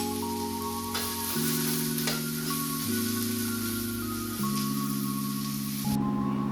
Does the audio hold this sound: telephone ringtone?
no